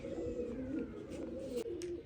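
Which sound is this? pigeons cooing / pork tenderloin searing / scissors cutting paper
pigeons cooing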